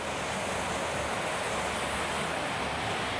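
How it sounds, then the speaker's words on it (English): Seasoned salmon with salt and pepper sears in a piping hot pan with a little oil, giving a steady, dense sizzling hiss that stays close and even throughout. "Just looking for a nice crispy sear on that fish."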